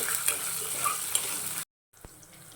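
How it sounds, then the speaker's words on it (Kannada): Green chillies fry with salt and a little cumin in a pan, a close, steady sizzle with stirring that cuts out briefly before a final clink. "ರುಚಿಗೆ ತಕ್ಕಷ್ಟು ಉಪ್ಪು, ಹಾಗೆ ಮೆಣಸಿನ್ಕಾಯಿ ಎಲ್ಲನೂ ಸ್ವಲ್ಪ ಫ್ರೈ ಮಾಡ್ಕೊತೀನಿ."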